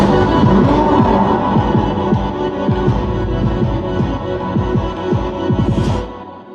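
Odysseus's electric guitar with LFOs as he summons a cyclops: a loud, throbbing riff of rapid repeated pulses over a droning bass, fading out at the end.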